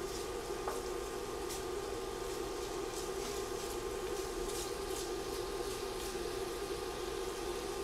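Smoked bacon strips frying in a pan until crispy, giving a steady, close sizzle with a constant crackling hiss throughout and no talk over it.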